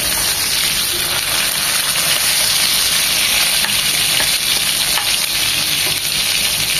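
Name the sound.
hilsa fish frying in oil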